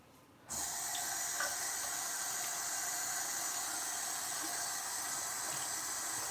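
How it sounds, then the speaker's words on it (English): Water running steadily from a tap as toothpaste is wiped off skin, a constant close hiss that starts abruptly and carries on alone without a break. "So I'm just going to wipe that off just with a little bit of water"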